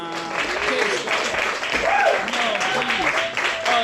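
Loud crowd applause and cheering fills the space, with scattered voices and whoops rising over the steady clapping throughout.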